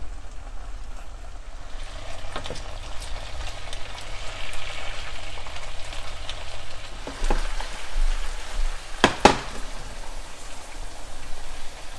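Sliced potatoes fry slowly in oil in a pan for a Spanish tortilla, a steady close crackling sizzle like light rain, with a couple of brief clinks of a utensil late on and no talk.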